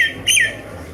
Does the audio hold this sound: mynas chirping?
yes